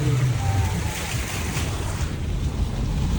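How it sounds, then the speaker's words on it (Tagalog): Floodwater rushing along a highway in Barangay Liberty, Mayorga, Leyte, a steady broadband wash of water with wind buffeting the microphone and low rumble throughout. "Baha na dito sa Mayorga."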